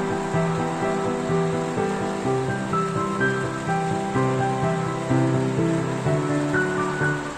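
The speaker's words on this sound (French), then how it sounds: "J'espère que vous allez bien m'entendre parce qu'il pleut vraiment beaucoup." Heavy rain during a thunderstorm makes a dense, steady roar of falling water close by that never lets up, with a faint tonal hum running underneath.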